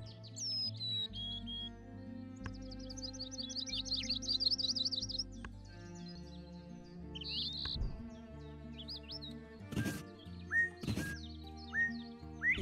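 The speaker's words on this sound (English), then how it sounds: "Yellow-rumped warbler." Bright chirps and trills of a yellow-rumped warbler in Wingspan Digital Edition, scattered calls with a few sharp clicks over soft background music, with no voices.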